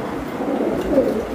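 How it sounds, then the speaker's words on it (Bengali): An army pigeon cooing at close range, soft low throaty coos over a faint background murmur, with no speech. "এটা আর্মি কবুতর"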